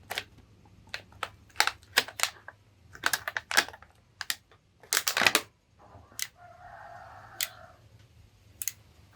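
Someone unpacks a boxed torch flashlight: a string of sharp, close plastic clicks and snaps, then a short stretch of crinkling packaging and a few more clicks, all fairly faint with no talking.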